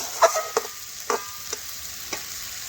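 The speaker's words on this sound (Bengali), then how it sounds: "সব একসাথে কষে নিয়ে মশলার সাথে মিশিয়ে নিলাম" Vegetables and spices being sautéed and stirred in a pan for a Bengali chhyachra dish, giving a few quiet, separate scrapes and faint sizzles with short pauses between them.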